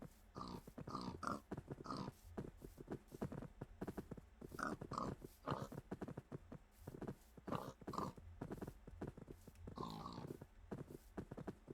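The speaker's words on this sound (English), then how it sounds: "Come on, pigs." Several pigs in Minecraft grunt and oink in short repeated bursts, overlapping at a steady pace with soft shuffling between calls, all faint and distant.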